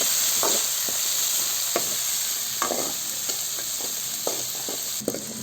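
Dried sundakkai vathal (turkey berry) frying in hot oil for vathal kuzhambu, a steady close sizzle with repeated soft stirring scrapes and clinks of a spoon in the pan, no voices.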